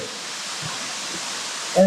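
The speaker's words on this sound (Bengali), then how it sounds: "কক্সবাজারে এত সুন্দর ঝর্ণা আছে, এটা কি কল্পনা করা যায়?" A waterfall at Doriyanagar in Cox's Bazar gives a steady, even rushing hiss of flowing water, and a short louder sound breaks in at the very end.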